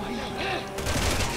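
Gunfire from the video game Resident Evil 6, a burst of rapid shots and a heavy blast rolling over continuous game music and ambience, with a voice briefly in the mix.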